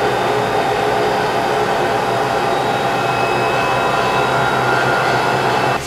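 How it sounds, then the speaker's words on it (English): An Evodos 10 separator rotor spinning up toward its 70 Hz set point gives a loud, steady whirring hum with tonal machine whine, constant throughout with no talk. "So now we can start the rotor. And we have to wait till the rotor is on speed."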